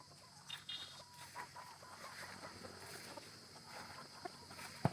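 Chickens settling at their evening roost on a game farm at about six in the afternoon, giving scattered faint clucks and rustles at a distance over a steady ambient hiss, with a sharper knock near the end.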